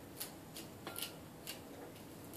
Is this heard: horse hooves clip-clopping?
no